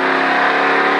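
A race car engine at a Richard Petty Driving Experience track holds a loud, steady high-pitched roar as the throttle is rolled on, dense and continuous with no pauses.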